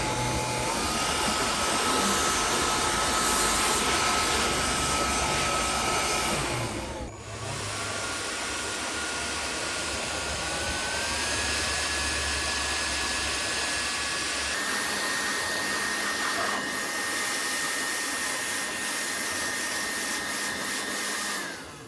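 A loud electric blower roars continuously at close range, drying rain-wet succulents, its whine shifting in pitch and strength a couple of times as it is moved or adjusted.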